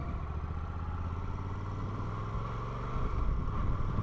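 An MGX-21 bagger motorcycle engine hums steadily under light throttle, then its pitch rises and the sound swells louder near the end as it accelerates.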